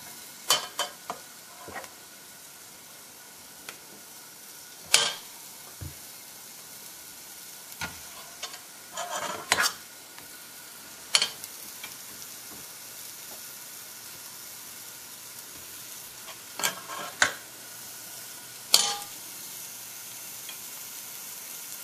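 Swedish meatballs frying in a single pan make a soft, continuous sizzle broken by scattered clinks and scrapes of a utensil, heard close without any talking.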